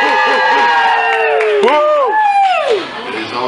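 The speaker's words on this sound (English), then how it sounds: "let me hear you cheer loudly and proudly" A family audience cheering loudly after a quiz question, a crowd of voices including children shouting and whooping in rising and falling cries, close and energetic, fading slightly at the end.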